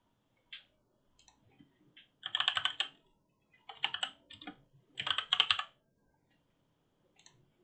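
Computer keyboard keys clatter in quick bursts of typing separated by pauses, close and clear, with a few isolated single clicks before and after.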